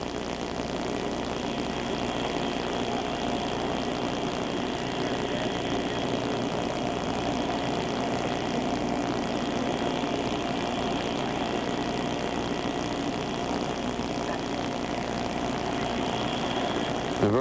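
Aircraft engines run steadily before takeoff, a continuous droning propeller-and-engine roar with a constant tone held at an even level throughout, with no voices over it.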